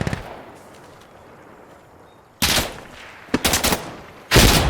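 Bursts of automatic gunfire at a body in Insurgency: Sandstorm, loud and close, separated by quiet ambient stretches, with a few sharp single cracks early on.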